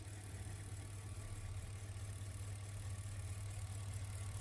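The V8 engine of a Bentley Mulsanne runs at a low, steady hum, faint and continuous, with no voices over it.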